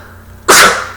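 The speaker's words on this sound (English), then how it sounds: "I need to sneeze." A single sharp sneeze from a person bursts in suddenly and loud after quiet room tone, then tails off over a fraction of a second.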